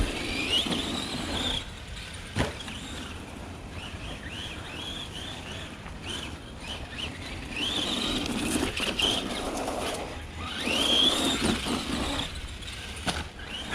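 Arrma Granite Voltage RC car spinning donuts, its electric motor whining in rising and falling sweeps with tire scrub, fairly close, repeating in several waves over a steady outdoor background.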